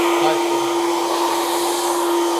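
A hair dryer on high speed and high heat blows with a loud, steady roar and a constant whine, running unbroken throughout.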